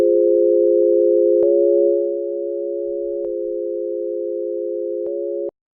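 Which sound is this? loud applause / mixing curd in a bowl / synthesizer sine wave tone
synthesizer sine wave tone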